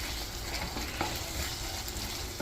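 Vegetables tossed into a pan of frying meat for a meat pie with tomato paste and Worcestershire sauce, giving a steady, close sizzle with faint stirring scrapes throughout and no talk.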